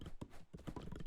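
Cavalry horses in the strategy game 0 A.D. clop along in quick repeated hoofbeats, quiet and steady for a short moment.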